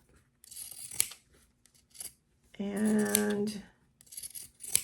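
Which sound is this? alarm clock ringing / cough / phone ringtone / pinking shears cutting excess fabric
pinking shears cutting excess fabric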